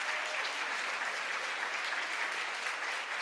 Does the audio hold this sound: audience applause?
yes